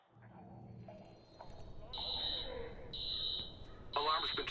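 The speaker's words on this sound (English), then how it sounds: "Alarm's been tripped." Alarm ringing in the video game Watch Dogs: three loud, shrill electronic beeps, each about a second long at even intervals, over muffled low rumble and speech.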